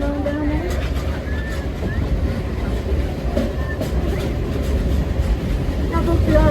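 A Silver Dollar City theme park train ride rolls along with a continuous rumble and rhythmic clickety-clack of the cars, close and steady throughout.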